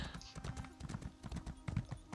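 Horse hooves clop in a quick, steady rhythm in the video game Elder Scrolls Online, close and fairly loud, with a faint voice briefly in the background.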